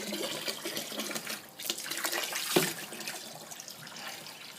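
A steady rushing stream of cooling water from a running 55 Evinrude outboard motor splashes continuously, with a brief louder burst midway.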